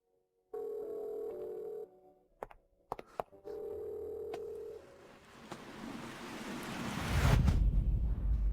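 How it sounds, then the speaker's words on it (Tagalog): A telephone tone sounds in steady electronic bursts, interrupted by clicks, then gives way to a rising rush of noise like surf or wind. "Kuya Sheng, hindi ba't ang telepono mo ay tumutunog?"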